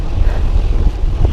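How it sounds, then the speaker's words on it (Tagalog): Heavy wind buffets the microphone while a cyclist rides into a strong headwind at night, a loud, continuous low roar and rumble with gusting fluctuations and no talking. "Salubong na naman tayo sa hangin."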